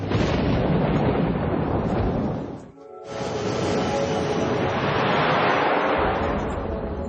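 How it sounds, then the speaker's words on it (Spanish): A violent thunderstorm roars close and loud, with heavy rumbling and rain-like wash filling the whole span; a brief near-silent gap breaks it before the din swells back steadily. "entra en el centro de una tormenta"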